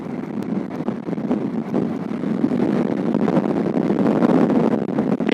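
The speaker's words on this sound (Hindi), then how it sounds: "तेज की हवा चल रही है" Strong wind roars steadily against a microphone on a road in Ranchi while a vehicle travels at about 50, a loud, continuous buffeting rush with gusty swells and no talking.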